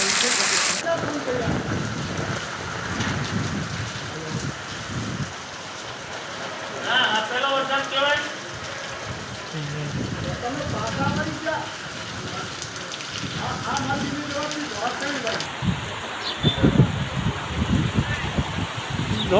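Steady heavy rain hisses throughout, with people talking over it and a few brief louder bursts near the end.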